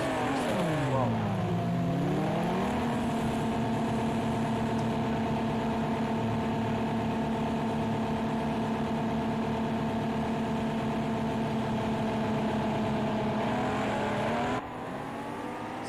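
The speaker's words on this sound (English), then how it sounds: "it does seem like those cars are very loud in my ear" Race car engines from the Project Cars 2 video game, vintage GTA cars at Brno, droning loud and steady with a rising rev at the start and a gear change near the end, with no talk over them.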